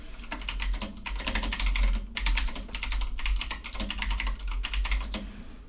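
Someone types on a computer keyboard into OneNote, making fast, close clacking keystrokes in steady bursts with short pauses between runs and no talk.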